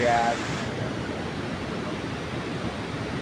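A waterfall roars as a dense, steady wash of falling water close by, with a brief tonal sound at the very start.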